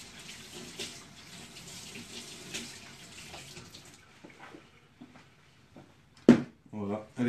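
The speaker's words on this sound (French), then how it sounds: "Je vais la rincer. Il y a juste besoin de la rincer pour pouvoir la nettoyer correctement." Running tap water splashing as a cleaning brush is rinsed at a sink: a soft, steady stream for several seconds, then faint handling knocks and a few louder sharp splashes near the end.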